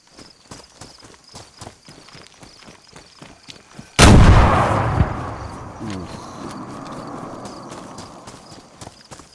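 A grenade goes off in a zombie video game with a sudden loud blast midway, followed by a long decaying rumble. Before it, a steady run of light ticking, step-like clicks plays.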